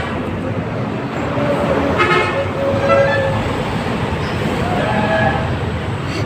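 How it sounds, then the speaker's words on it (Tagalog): Highway traffic with buses rumbles steadily and loudly around the listener, broken by a few horn toots and a brief high squeal of brakes or a horn. "Ingay namang bus highway."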